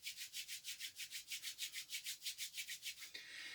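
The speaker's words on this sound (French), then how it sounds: "D'abord on frotte." Palms rubbing briskly over the shoulders and arms during a tai chi self-massage warm-up, a rapid steady back-and-forth friction of about twenty strokes, close and alone, ending in a brief smoother rub.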